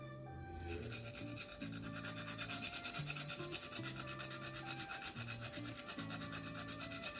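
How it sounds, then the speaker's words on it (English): Whole nutmeg is grated into porridge with quick rhythmic rasping strokes, close and quiet, over steady tonal music and with no speech. "I have my nutmeg here. I'm gonna grate some of that in here."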